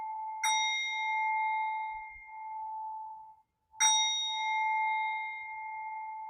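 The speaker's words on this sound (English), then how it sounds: "with the sound of this bell to remind us of the clarity" Two clear strikes of a meditation bell, each with a bright attack and a long, pure ringing decay lasting a few seconds, the second struck after the first fades almost to silence.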